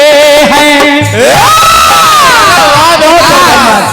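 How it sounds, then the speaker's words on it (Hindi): A crowd cheers and shouts loudly and continuously at a live stage song performance in Motinagar, Unnao, with voices overlapping for the whole stretch. "इसको कहते हैं तालियों की गड़गड़ाहट"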